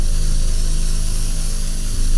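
Deodorizer spray sprayed into a pair of smelly shoes, a loud, close, continuous hissing blast lasting a couple of seconds with no speech.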